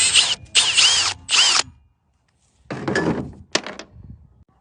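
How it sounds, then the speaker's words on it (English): Bolt pulled from a vintage Sears Roebuck air compressor during restoration: three loud close bursts of high metallic whirring like a power tool, a pause, then two more rougher scraping bursts with clunks, no talking. "so we're gonna pull this bolt out."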